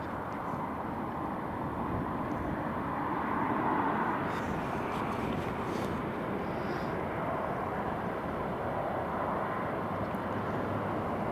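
A Jet2 Boeing 737-800 airliner at Newcastle airport gives off a steady, broad engine roar heard from a distance, a continuous rumble that swells slightly midway and holds at an even level, no voices.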